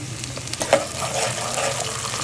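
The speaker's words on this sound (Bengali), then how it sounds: "তেল গরম করে এর মধ্যে আমি পেঁয়াজ দিয়ে দিচ্ছি, চিংড়ি মাছ দিয়ে দিচ্ছি সামান্য পরিমাণে।" Onion and a small amount of shrimp frying in hot oil for a taro greens dish give a steady, close sizzle that runs throughout, with no voices.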